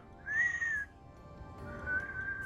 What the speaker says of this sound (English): I can't whistle, like, at all.